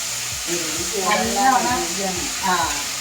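Jackfruit fries in ghee for chakka pradhaman, giving a steady hiss and sizzle under a voice talking over the pan.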